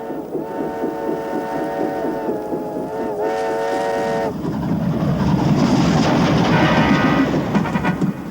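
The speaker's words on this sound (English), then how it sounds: "knew that whistle anywhere. It's the mail train!" A steam mail train's whistle sounds loud and close, a sustained multi-tone blast that breaks briefly and resumes, then gives way to the heavy rumble and clatter of the moving train.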